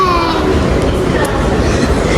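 Steady low rumble of a metro train in motion fills the space, with faint voices murmuring underneath.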